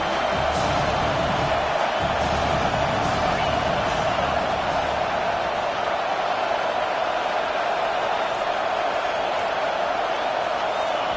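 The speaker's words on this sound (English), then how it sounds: "Decibels rising as the crowd gets behind this defense on third down." Stadium crowd in the video game NCAA 25 during a third-down defensive stand, a steady, dense roar of cheering that holds constant and loud for the whole stretch, with a voice talking over it.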